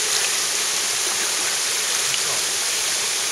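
The Beusnita waterfall cascade roars with a dense, steady rush of falling water, loud and close, with no voices.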